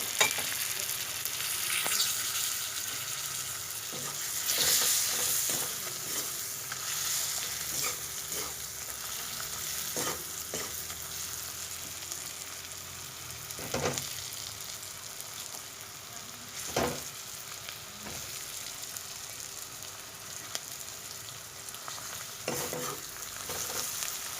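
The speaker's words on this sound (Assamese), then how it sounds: "আমি প্ৰথমতে আলুখিনি অলপ ভাজি ল'ম" Potatoes frying in a pan with spices for an alu matar paneer ghugni, a continuous soft sizzle broken by frequent clinks and scrapes of a stirring spoon, with no one talking.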